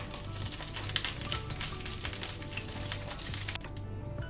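Dry red chillies fry in hot oil over a low-to-medium flame, giving a steady, dense sizzle that continues throughout and thins slightly at the very end.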